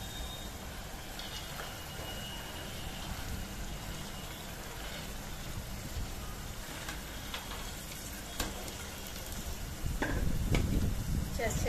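Red beans (chauli) and eggplant frying in spiced masala in a pan, a steady broadband sizzle with scraping stir strokes throughout, growing louder near the end.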